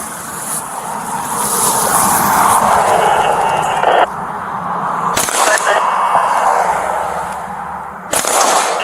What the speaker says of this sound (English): Shots still being fired.